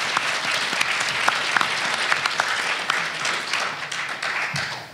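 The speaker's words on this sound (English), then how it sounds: "So I think that's why we're all clapping" An audience at a summit panel claps loudly and steadily for several seconds, a dense wash of hand claps with a few sharper individual claps standing out, tapering off at the end.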